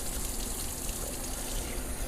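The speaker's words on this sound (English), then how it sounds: "So we'll go ahead and rinse that again." Running water gushes steadily over rice being rinsed for vegetable sushi, a close, continuous rushing wash with no pauses.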